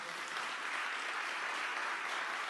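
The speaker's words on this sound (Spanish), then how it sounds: "Andrea Repeto, para la cual pido un aplauso" Audience applause at a tax reform seminar, a dense, continuous round of clapping filling the whole short stretch at even loudness.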